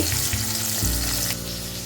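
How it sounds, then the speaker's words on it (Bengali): Koi fish frying in oil in a Bengali home kitchen gives a steady, close sizzle that crackles continuously and alone, with a slight drop in intensity near the end. "মাছটা ভাজা হোক তার মাঝখানে আমরা এখানে মশলাটা তৈরি করে নেব"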